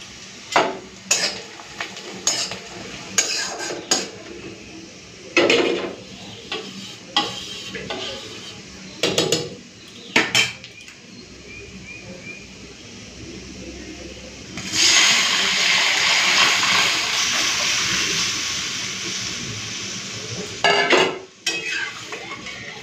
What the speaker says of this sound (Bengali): সরষের তেল গরম হয়ে গেছে, এখন দিয়ে দিচ্ছি পেঁয়াজ কুচি আর চেরা কাঁচা লঙ্কা